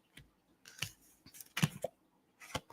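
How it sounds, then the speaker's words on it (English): Oracle cards being shuffled, with several short papery riffles and slaps scattered across a couple of seconds, close and fairly quiet with no talking. "I'm getting ready to shuffle these cards"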